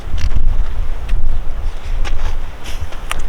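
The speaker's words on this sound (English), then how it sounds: "It's quite windy." Strong wind buffets the microphone in an open desert national park in the Simpson Desert, a steady low rumble with gusty surges throughout and no talking.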